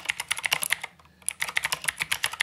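Typing on a Keychron K8 keyboard fitted with clicky blue Gateron switches gives a rapid, crisp run of sharp clicks, close and distinct, with a brief pause midway before the typing resumes.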